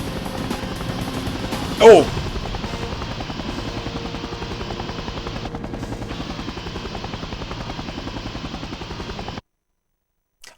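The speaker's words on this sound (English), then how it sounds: "Okay, there might be two helicopters." A helicopter in the N64 game The World is Not Enough makes a steady buzzing rotor drone that runs for about nine seconds before cutting off abruptly. A player's startled exclamation breaks in early on.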